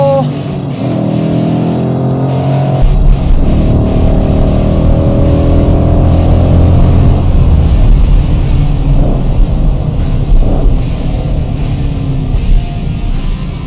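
A hot hatch on a race track, its engine droning loud and close as the driver rolls onto the throttle, the pitch climbing steadily through acceleration with a brief shift break early on.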